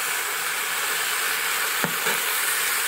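Meat seared on the sear setting of an Instant Pot for birria tacos, a steady close sizzle and frying hiss throughout with a brief clunk of the meat landing partway through.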